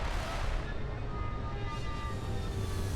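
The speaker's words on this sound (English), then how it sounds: "Retros firing." Spaceship retro thrusters firing during a landing in Starfield, a steady broadband roar with rumbling low-end booms that holds loud and continuous throughout.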